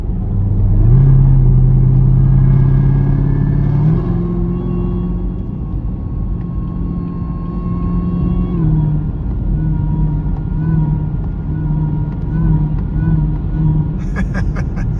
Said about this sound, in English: I would absolutely say that the MPI lid made my supercharger like twice as loud